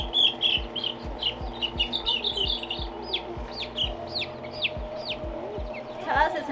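Lavender cuckoo Orpington chicks peep in quick, high, repeated chirps close by, over a steady murmur of clucking fowl and a low background hum, with a louder burst of calls at the end.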